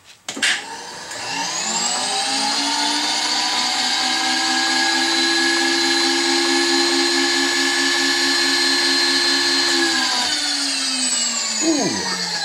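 A CNC lathe spindle runs up with a steady high whine and tonal hum, holding constant for about nine seconds while tapping a hole, then winds down with a falling pitch and a few clanks at the end.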